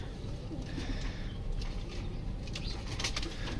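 A teddy pigeon, a female shown for sale, coos and flutters close by amid steady background hum, with soft wingbeats and brief bird calls across a few seconds.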